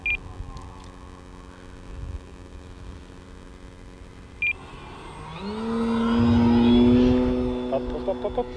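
FMS Pitts V2 RC plane engine in flight, a distant electric whine that swells louder and rises in pitch as the model passes, with a few short beeps nearby.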